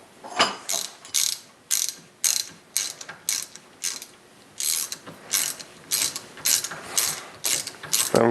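A 6 mm ratchet breaks loose and backs out a rear brake caliper slider bolt, giving a steady series of sharp, close clicking bursts in even rhythm with brief pauses between strokes.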